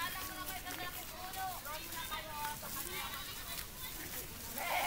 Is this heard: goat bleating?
yes